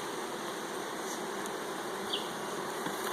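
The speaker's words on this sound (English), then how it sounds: "Wow, look at all those bees." A steady, dense buzzing of many honeybees at hives and nucs fills the air continuously, fairly close, with occasional individual insects droning past.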